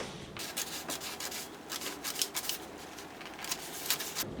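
Scissors snip through a paper sewing pattern along the side seam, a close, soft run of rustling cuts and paper rubbing with small sharper clicks throughout.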